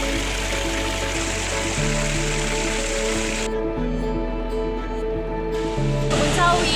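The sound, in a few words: Blawan waterfall, East Java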